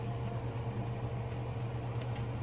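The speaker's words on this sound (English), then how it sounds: "Let this simmer for a little while" Pork pieces and Asian pear noodle sauce simmering in a pot, a steady low bubbling hiss with faint continuous patter and no voices.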